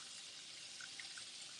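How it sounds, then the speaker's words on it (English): Hot water pours steadily from a kitchen tap for washing dishes, a continuous close hiss of running water with faint splashing into the sink. "Get me some good hot dish water."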